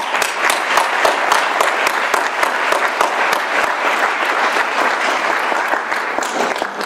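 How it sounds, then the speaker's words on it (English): Sustained audience applause after an evening lecture on Islamophobia, dense, steady clapping from a crowd lasting the whole stretch without a break. "let's give her another round of applause"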